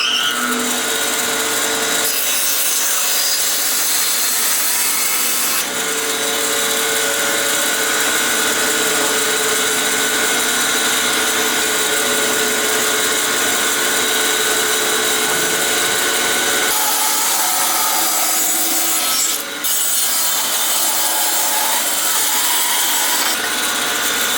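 A saw blade trims a piece of cherry wood, loud and close, with a continuous whining cut whose pitch shifts as the wood is fed through.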